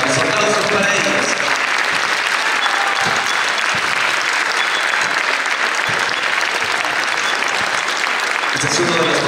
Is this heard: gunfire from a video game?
no